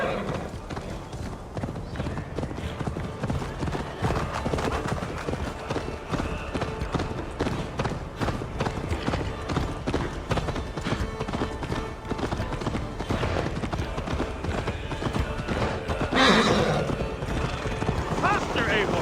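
In Assassin's Creed Valhalla, a horse gallops fast and loud with dense hoof beats and a neigh near the end. A voice speaks over the galloping.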